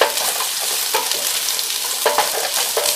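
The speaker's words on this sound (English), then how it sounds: "Add chopped broccoli. Saute it for a few seconds." Carrots and chopped broccoli being sautéed in a pan for a mixed vegetable curry, with a steady close sizzle broken by a few louder scraping stirs.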